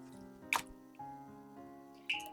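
Water drips off freshly washed beef as it drains: a few soft, faint drips and small splashes, close by and quiet, with no talking.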